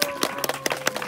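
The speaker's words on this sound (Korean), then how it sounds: "박수 부탁드립니다" Wedding guests clap in a short burst, with distinct sharp claps standing out over a lighter spread of applause in an indoor reception.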